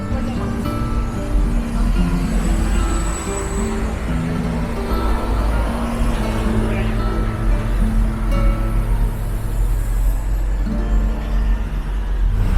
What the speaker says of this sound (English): So many buses driving around.